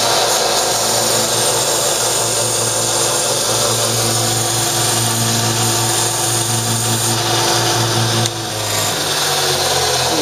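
A power tool bevels the end of a homemade cannon barrel, running with a continuous loud whine and grinding hum for about ten seconds before easing slightly at the close.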